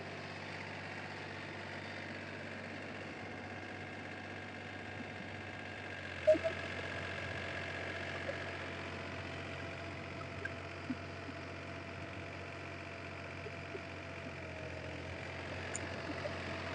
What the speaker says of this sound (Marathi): आता 28 इंची फॅनचा आपण दुसरा गिअर लावतोय.